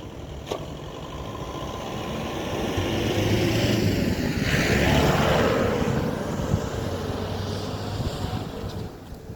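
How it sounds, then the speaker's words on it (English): Driving in a 2017 Isuzu Crosswind XL, a Philippine AUV, with a steady engine drone and road rumble that swells in the middle and then eases, no talking. "It's my first time driving an Isuzu Crosswind"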